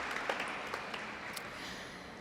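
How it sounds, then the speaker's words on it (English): Audience applause at a Pennsylvania state government event recognizing Suicide Prevention Awareness Month, a steady wash of clapping from a crowd, fairly even and sustained with no talk over it. "give her and her team a big round of applause."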